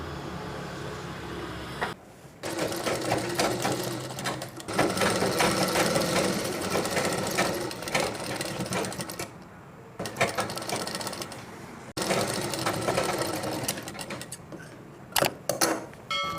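Sewing machine stitching the armhole of a chudidhar sleeve, running in several loud sustained bursts of rapid mechanical whirring separated by brief pauses, close up with no talk.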